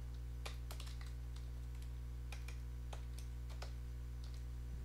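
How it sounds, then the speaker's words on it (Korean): Typing on a computer keyboard while entering code, a scatter of faint, quick key clicks in small bursts over a steady low electrical hum, with no talking. "여기다가 위에다가 예외 페이지라고 이렇게 타이핑을 한번 해볼게요."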